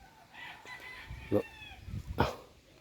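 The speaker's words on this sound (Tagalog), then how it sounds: "may mga tanganang manok diri" Chickens cluck quietly and a rooster lets out a short crow, a few scattered calls over a soft background.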